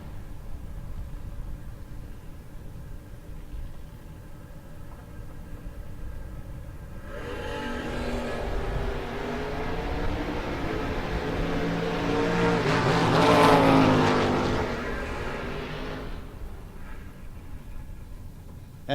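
Drag race cars, the Mighty Mouse Camaro and a Vega Wagon, launch down the strip at a no-box shootout, roaring up from a distant background hum to a loud, harmonic engine scream that peaks and fades as they pass.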